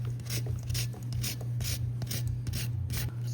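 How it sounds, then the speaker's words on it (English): A lemon is zested over a Thanksgiving turkey, giving rhythmic scraping rasps repeated about every third of a second, close and clear over a low steady hum. "Also zesting a lemon for freshness"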